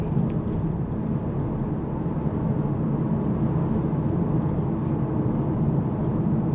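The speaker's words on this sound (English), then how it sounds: "you can hear a little bit of wind noise in this vehicle" Steady broadband wind and road rumble inside a 2024 VW T-Roc R-Line facelift with a 1.4 turbo and 8-speed automatic, climbing a rough road; a constant, even roar with no talking.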